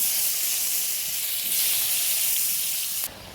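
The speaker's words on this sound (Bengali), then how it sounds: "তা আলু আর কুমড়োটা ভালো করে ভেজে নেব।" Cut potato and pumpkin fry in hot oil with a loud, dense, continuous sizzling hiss close to the pan, which drops off abruptly near the end.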